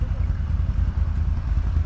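An off-road side-by-side or quad, one of a CFMOTO, Polaris or Can-Am, strains its engine up a steep sand hill at Biały Bór, giving a low, rumbling drone that sounds weak and labouring, heard briefly and at a distance.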